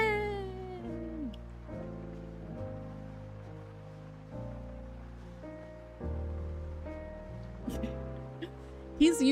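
A sleeping pet cat lets out a string of small chirping, beeping calls, short and faint, spaced irregularly over a steady tonal background hum.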